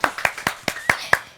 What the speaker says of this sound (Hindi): तालियां guys.